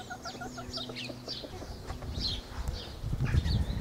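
Several chickens cluck and chatter nearby in short repeated calls, with some rustling and low thumps toward the end.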